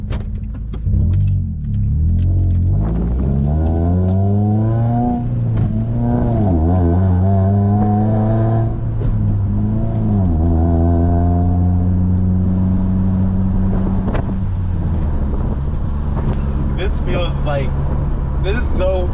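A Honda Prelude accelerates along a road, its engine note rising in pitch through repeated gear pulls, loud and close from inside the car, with a steady drone between shifts.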